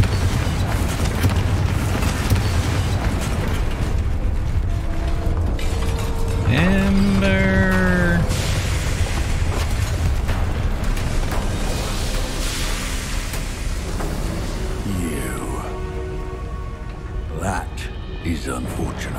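The Confringo blasting spell from a Harry Potter video game erupts as a booming explosion, with roaring rumble throughout, a sweeping tonal whoosh in the middle and further bursts later, all under game noise.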